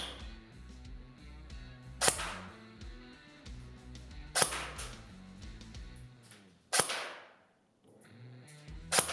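A Double Eagle UTR45 airsoft SMG powered by an 11.1 LiPo battery fires sharp, close, snapping shots, several distinct cracks spaced a couple of seconds apart over a low mechanical hum, with one brief quiet gap near the end.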